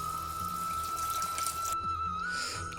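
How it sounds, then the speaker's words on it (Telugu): Water is poured into a pan of meal maker soy-chunk curry, a steady close gush running under a thin high whine for nearly three seconds. "add some water"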